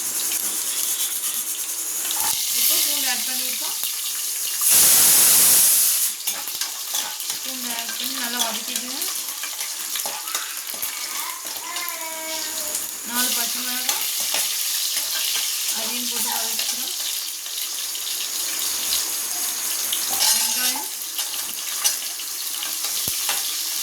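Mustard seeds spluttering and popping in hot oil for Coimbatore-style arisi paruppu sadam, a continuous close sizzle with scattered crackles, a brief loud hiss burst near the start, and someone speaking intermittently over the frying.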